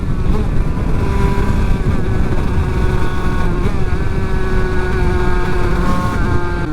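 A tuned 50cc moped engine screams at full throttle, a loud, sustained high-revving buzz with wind rushing over the microphone, steady throughout and without speech.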